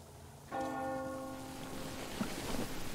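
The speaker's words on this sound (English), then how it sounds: "You hear that bell?" A single struck bell ringing in the video game Metro Exodus, one clear metallic strike with a ringing tone that decays over about a second against a steady rain-like ambient hiss, fairly distant and faint.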